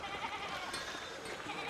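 Sheep in the game Pentiment bleat with a wavering, goat-like quality, one drawn-out call running under a faint, even background for a little under two seconds.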